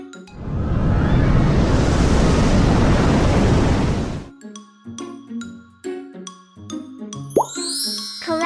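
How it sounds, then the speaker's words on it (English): Tsunami waves crashing as a sound effect: a loud, dense roar of rushing water for about four seconds that cuts off abruptly, followed by bright plinking, chiming notes. "What natural disaster might make this sound?"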